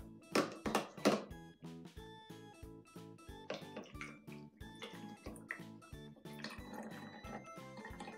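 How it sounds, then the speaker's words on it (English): Hot water pours and splashes into a hot water tank for chocolate making, a steady liquid rush that grows toward the end, with music playing underneath. "Now, I'm pouring in the hot water."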